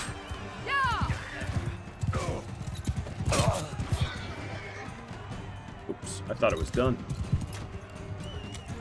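Hooves clip-clop in short bursts alongside a horse whinny in the video game Mount and Blade Bannerlord, with a person speaking over the sounds.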